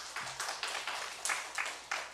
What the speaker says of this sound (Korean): 이분들에게 우선 축복의 박수를 쳐주겠습니다